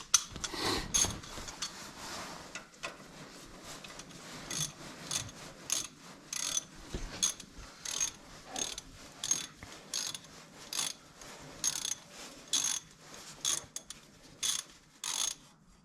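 A hand ratchet works a socket on a 1974 Dodge Ramcharger, giving repeated bursts of sharp clicking in a steady on-off rhythm, close by and alone without talk.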